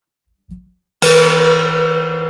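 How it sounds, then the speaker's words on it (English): A gong is struck once on a live morning talk show, following a soft low thump; the hit blooms into a loud shimmering metallic wash with a sustained ringing tone that slowly decays. "Get out the gong, Steve."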